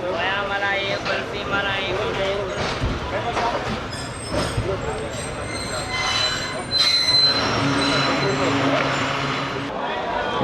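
The Hazara Express pulls into a platform at Rohri Junction, its wheels squealing loudly against the rails over a heavy rumble, with voices heard along the way.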